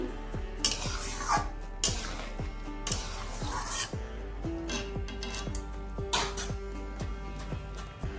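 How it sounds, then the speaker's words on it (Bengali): A utensil stirs chopped pumpkin greens into a silver carp fish curry in a metal pot, producing repeated clinks and scrapes against the pot, close and steady, with no talk. "শাকটা দেওয়ার পরে একটু নাড়িয়ে দিচ্ছি।"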